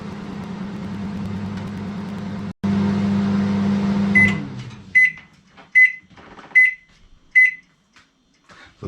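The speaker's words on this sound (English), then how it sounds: "So we have our mug in the microwave, put that in there, and then put that on high power for 2 minutes." A microwave oven heating a banana mug cake on high power hums steadily, then stops and gives a string of five sharp, evenly spaced beeps close by.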